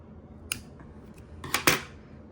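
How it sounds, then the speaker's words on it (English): Scissors snipping off a crochet yarn tail on a small daisy, a few quick close metallic snips in a quiet room, with no voices. "And now I can cut that off"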